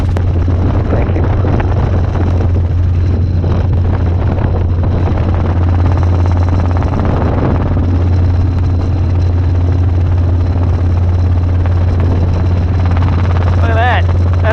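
Robinson R22 helicopter in flight on short final, a loud constant low rotor and engine drone filling the cabin, with radio transmissions and people talking over it throughout.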